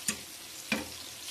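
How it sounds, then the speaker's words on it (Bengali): Flat beans and eggplant fry in a pan with a little salt, a soft, faint sizzle broken by two quick stirring scrapes about half a second apart. "হয়ে গেছে শিম বেগুন ভাজা।"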